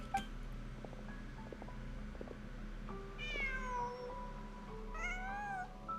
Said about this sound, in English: Oh, a cat came in out of nowhere.